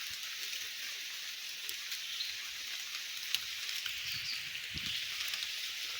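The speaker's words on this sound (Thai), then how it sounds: "ฝนก็ตกเลยนะ" Steady, soft rain patters through a forest, a continuous hiss of drops on leaves with a few slightly louder ticks, no voices.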